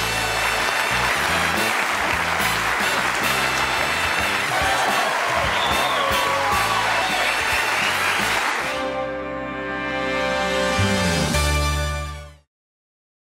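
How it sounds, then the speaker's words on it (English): Sustained studio audience applause on a 1984 Johnny Carson talk show, loud and dense for about nine seconds, then easing into thinner clapping under music before cutting off abruptly. "I'm humbled by that applause."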